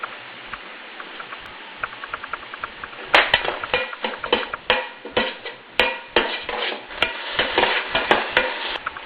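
Mustard and cumin seeds pop and sputter in hot oil for a South Indian upma base, with dense crackling that turns louder and busier partway through, sharp pops standing out.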